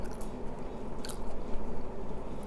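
Someone bites and chews ripe Monthong durian close to the mic, with soft, wet, squishy mastication and a few sharper crunchy bites over a constant low background hum, no talk.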